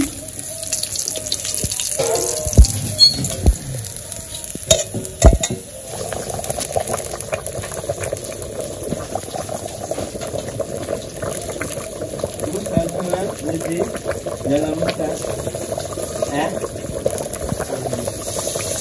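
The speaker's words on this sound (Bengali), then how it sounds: "মাংসটি কষানো হয়ে গেছে, জল দিয়ে দিব।" Fried meat curry simmering after water is added, with a steady bubbling boil and liquid sounds and a few louder clatters of stirring near the start, continuing close-up for the whole stretch.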